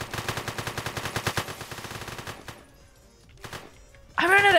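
Rapid automatic gunfire from a video game rattles off in a fast, steady burst of shots, then stops; a short pause follows before a louder, close burst of noise at the very end.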